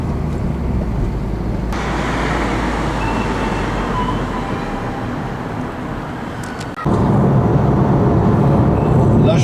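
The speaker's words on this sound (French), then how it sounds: "Sa conduite en ville est très agréable, le moteur est souple" A Renault Twingo being driven in city traffic: a steady engine drone with broad road and tyre noise that stays loud throughout and steps up in level near the end.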